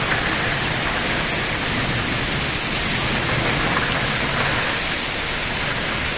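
Heavy rain pours down in a loud, unbroken hiss that stays even throughout, with no voices.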